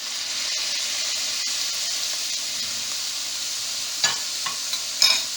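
Pork and plum tomatoes sizzle steadily in a hot pan, a loud continuous frying hiss, while a spoon stirs them with a few scraping clatters near the end.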